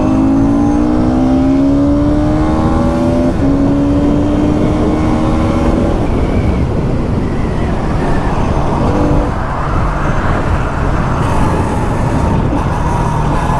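A Yamaha R15 V4 and a Bajaj Pulsar NS200 motorcycle riding side by side in second gear, engines droning and climbing in pitch under loud, constant wind rush from a moving bike.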